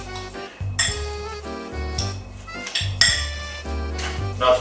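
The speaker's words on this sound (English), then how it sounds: "We got the fork. We mix all the ingredients." A fork mixing turkey meatball ingredients with olive oil, vinegar and onions in a bowl, a series of rhythmic clinks and scrapes of metal against the dish, close and fairly loud, with short pauses between strokes and no speech.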